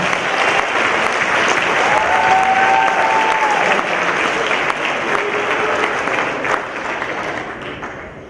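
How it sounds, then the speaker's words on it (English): Audience at an incubator pitch night applauds after a startup pitch: dense, loud, steady clapping from a full room that holds for about eight seconds before thinning slightly at the end. "Big round of applause."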